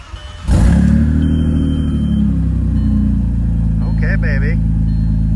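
An Audi C5 allroad engine cranks and catches with a sharp burst, then settles into a loud steady idle with a slight rev. A person speaks briefly over the running engine.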